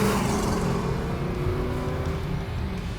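Interior drone of a 1969 Chevrolet Camaro Z28 with a DZ302 V8 and Muncie 4-speed cruising at about 50 mph, a steady loud engine and road rumble with no talking.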